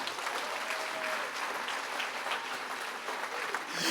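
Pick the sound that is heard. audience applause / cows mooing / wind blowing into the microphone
audience applause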